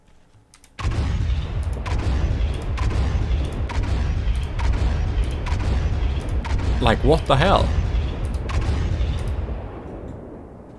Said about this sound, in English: It sounds like a plastic space cannon.